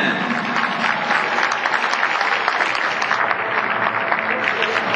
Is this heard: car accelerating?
no